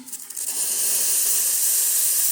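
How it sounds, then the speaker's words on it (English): Steam wand on a La Spaziale Dream T espresso machine with a freshly replaced steam boiler, blasting a strong, steady hiss that starts after a brief sputter and holds loud and close without pause. "As you can see, we've got nice strong steam."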